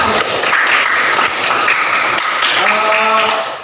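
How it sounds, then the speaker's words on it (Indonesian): Classroom of students clapping together, a dense steady patter of many hands filling the room, loud and close, tapering off at the end. "Terima kasih tepuk tangan."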